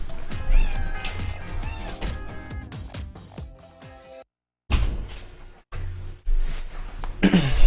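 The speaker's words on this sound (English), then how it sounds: "I'm gonna let my cat out." A pet cat meowing repeatedly and loudly at close range as it is let out, drawn-out wavering cries with brief pauses between them.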